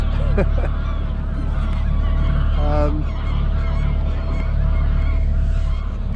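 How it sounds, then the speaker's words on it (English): Canada geese honk loudly nearby in a few bursts of repeated calls, over a steady low engine drone from a Shetland 535 boat on a river. "1 or 2 Canada geese"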